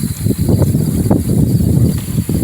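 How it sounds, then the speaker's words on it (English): Strong wind at a campsite buffets the microphone with continuous low rumbling gusts, loud and close, with no voices. "but it really is windy"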